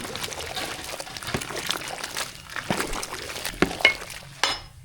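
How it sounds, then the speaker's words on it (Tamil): Vegetables stirred into a pot of sambar with dal, tomato and onion give off wet, sloshing scrapes and soft liquid trickles with a few sharper clinks near the end. "காயெல்லாம் சேர்த்தாச்சு நல்லா கலந்து விட்டுக்கலாம்"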